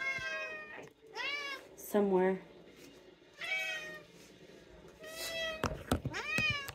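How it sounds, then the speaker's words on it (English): Several house cats meow repeatedly in an office while being fed, with sharp rising and falling cries close by, alternating with a person talking. "So I'm in the office feeding the cats."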